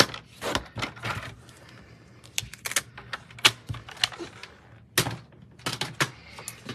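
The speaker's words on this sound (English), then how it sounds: "I'm gonna go ahead and trim this really quickly down to" A paper trimmer slices white cardstock down to card-panel size, producing a series of quick, sharp swishes and clicks with brief pauses between them, close and fairly quiet, with no talking.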